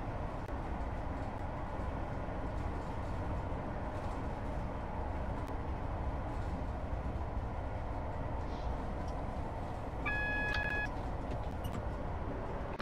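A Class 158 diesel train in Train Sim 2019, running the Selby to York route toward the platform at York, gives a steady, unbroken engine and rail rumble throughout, with a brief cluster of thin beeping tones near the end.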